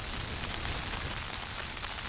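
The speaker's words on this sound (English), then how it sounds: "The rain started. I don't think it's going to stop all day, or most of the day." Rain patters steadily on a Hilleberg Rogen tent pitched in the Kilpatrick Hills, a dense, even hiss of drops on fabric, soft and continuous with no voices.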